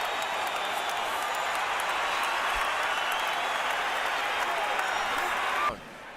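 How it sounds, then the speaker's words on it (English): A boxing crowd in a Las Vegas arena roars and applauds in a dense, sustained wall of cheering and clapping that stays loud before cutting off abruptly near the end. "The crowd's on its feet."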